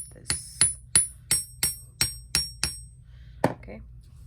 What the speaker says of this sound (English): put all the components and take a hammer and just tap this